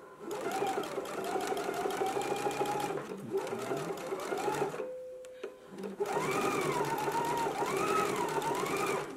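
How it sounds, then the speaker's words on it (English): A sewing machine runs close by as it stitches bias tape onto a bodice armhole with a 3/8 inch seam, whirring in fast steady bursts with a brief pause and a thin tone in the middle. "we can go to the sewing machine and we're going to stitch this in a 3/8 inch seam allowance."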